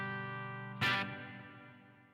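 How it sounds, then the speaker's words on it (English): Electric guitar played through a TC Electronic Hall of Fame pedal set to plate reverb: a sustained chord rings and slowly decays, with a brighter strike near the middle adding a wash of reverb. "That's plate reverb."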